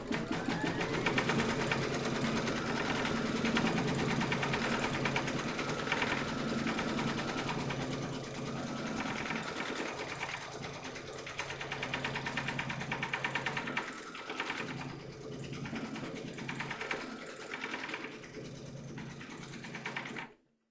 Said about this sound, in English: Load your matching bobbin and thread colour for the paw print motif into your machine, and then stitch round number 5